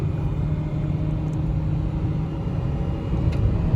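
Hyundai Verna 1.6L and Renault Duster 1.5L racing side by side in a drag race, a steady loud engine roar and road rumble holding throughout without a break.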